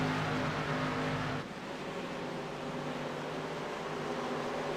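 Race cars lapping the Phoenix oval in iRacing, a steady loud engine drone that drops to a lower, thinner pitch partway through as the field runs on, with no talking.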